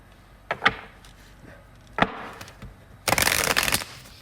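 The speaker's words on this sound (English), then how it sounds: "I'll go ahead and shuffle live" A few sharp taps and snaps of tarot cards, then a brief dense riffling rush as the deck is shuffled, close and fairly quiet.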